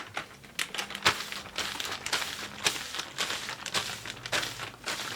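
Plastic bag crinkling and rustling close by in a run of irregular crackling bursts and soft scrunches, moderately loud, with no talking.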